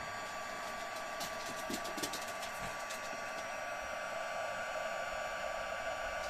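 Hair dryer blows on the back of a handmade slimline card, a steady loud whirring hiss with a constant tone that runs unbroken throughout, with faint handling clicks early on.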